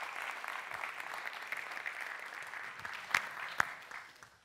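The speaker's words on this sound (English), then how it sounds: "A gravitational wave of applause, please, for our Netherlands winner," An audience at the FameLab International science-communication semi-final applauds steadily, with a couple of sharp louder claps standing out near the end before the clapping fades out.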